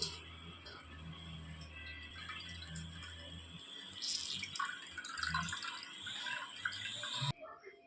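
Cottonseed paste soaked in water is squeezed by hand to press out its milk, the liquid dripping and trickling into a container in close, soft splashes that swell briefly before stopping abruptly.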